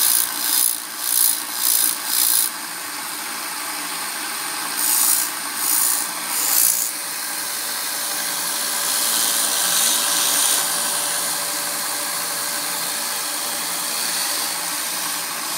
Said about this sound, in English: So now I've switched from a 40 grit to an 80 grit sandpaper belt, and we'll do some fine tuning and get the point really sharp.